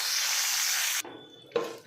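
Curry leaves fry in hot oil for a tempering, making a loud, dense sizzle for about a second that cuts off abruptly, followed by a short, quieter crackling burst.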